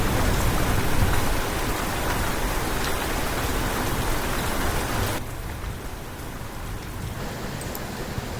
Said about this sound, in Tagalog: isang malakas na bagyo ang dumating